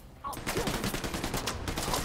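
A video-game turret firing tracer rounds breaks into steady rapid automatic fire, a dense rattling stream of shots running loud and unbroken after a brief quieter start.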